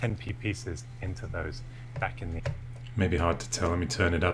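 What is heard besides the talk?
No everyday noises stand out.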